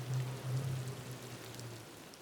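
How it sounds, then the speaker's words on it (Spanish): Steady soft patter of rain on a roof, a continuous hiss with faint drips over a low hum that fades partway through. "Podía escuchar el sonido suave de las gotas pegando en el techo."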